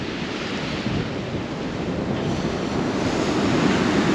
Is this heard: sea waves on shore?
yes